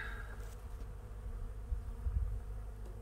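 Honeybees hum in a low, steady drone close by as a backyard hive is opened for inspection, with a few soft bumps and knocks from handling the equipment.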